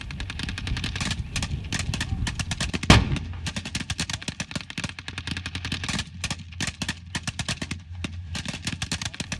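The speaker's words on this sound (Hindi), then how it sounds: "मेरे बगल में बिल्कुल एक टैंक है जो फायरिंग जिसने शुरू कर दी है" Tank cannon and gunfire at a front line in the Syrian war against ISIS: one sharp, loud blast followed by a long run of rapid, crackling shots and impacts, dense and close, with no speech.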